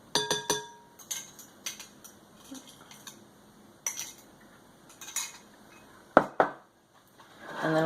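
A whisk clinking against a bowl as yeast is beaten into an egg and butter mixture for copycat Krispy Kreme donuts, sharp irregular metallic taps and scrapes in short bursts with quiet gaps.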